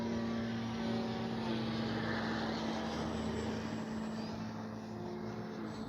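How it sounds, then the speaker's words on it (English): An FMS Ranger 1220 RC trainer jet in flight gives a steady, continuous whine with a strong sustained tone, holding at an even, moderately loud level throughout with no talking. "the Ranger 1220 is just an absolute fabulous flying little trainer jet"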